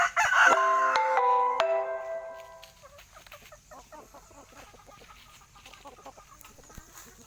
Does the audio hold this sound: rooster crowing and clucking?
yes